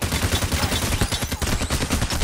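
Rapid gunfire in the video game Payday: The Heist, a loud dense burst of overlapping shots and automatic fire rattling continuously for a couple of seconds, with no talk.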